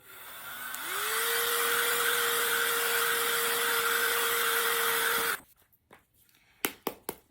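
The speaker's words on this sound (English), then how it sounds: "And we're going to go ahead and use the dryer again." A hair dryer starts up and blows with a steady whine and airy rush for several seconds, then cuts off, followed by a few sharp knocks.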